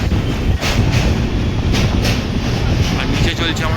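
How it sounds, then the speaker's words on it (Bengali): The Amrit Bharat Express rolls across a double-decker bridge over the Ganges, heard from on board as a loud, continuous rumble with rhythmic clickety-clack of wheels over the rail joints. "মাঝখান থেকে ট্রেনটা চলছে আর উপর দিয়ে যাচ্ছে গাড়ি"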